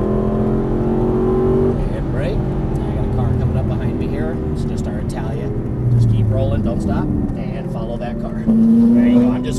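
An Aston Martin V8 Vantage accelerating on a track, a loud, close engine drone rising in pitch through the throttle, with an instructor talking over it throughout.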